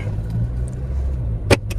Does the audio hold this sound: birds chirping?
no